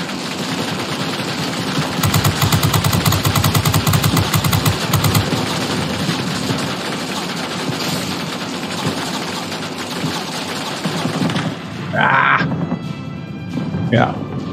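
Rear gunner machine gun fire in the World of Warplanes air combat game during a P-26 Peashooter dogfight, rapid rattling bursts over a steady droning aircraft engine, with a voice talking over the action.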